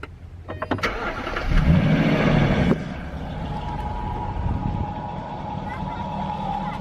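A Jaguar XK's keyless-start engine cranks and catches after a few clicks, then settles into a steady idle, close by.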